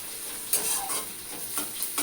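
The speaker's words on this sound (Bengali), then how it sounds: "পেঁয়াজটাকে একটু লাল লাল করে ভেজে নেব মানে একটু হালকা ব্রাউন টাইপের ভেজে নিয়ে" Onions fry and sizzle in a pan on their way to light brown, with a steady hiss and several soft stirring scrapes. The sound is fairly quiet and close, with no voices.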